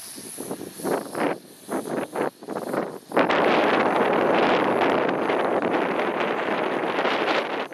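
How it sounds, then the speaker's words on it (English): Strong wind gusts buffet the microphone in uneven bursts at first, then settle into a loud, continuous roaring rush. "Actually pretty extremely windy."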